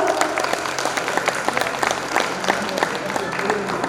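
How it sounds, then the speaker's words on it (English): A school graduation audience breaks into steady applause, dense clapping filling the room at an even level with some voices underneath. "Give a big round of applause."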